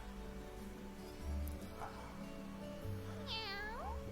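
A cat meows in the game Trails of Cold Steel. Two short, clear meows rise over a quiet, humming background, with no talk.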